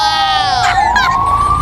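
A loud police siren set off by pressing a button, rising and wailing in a steady electronic tone and sounding close and strong, with no other sound above it.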